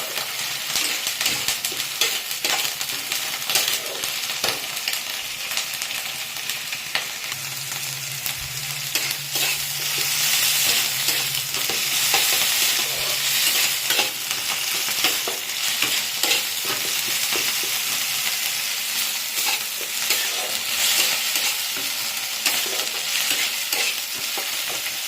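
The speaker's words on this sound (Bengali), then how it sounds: "এবার ভালো করে ভেজে নেব।" Tomatoes sizzle and fry in a pan for a fish curry with cauliflower, a steady loud hiss broken by repeated scraping stirs of a spoon, with no talking throughout.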